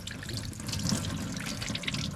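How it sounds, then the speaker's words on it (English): Hot tap water runs steadily into a sink as a part from a classic Volvo F7 lorry is rinsed, a continuous close splashing stream with no talking. "Rinse this off in the sink with some hot water."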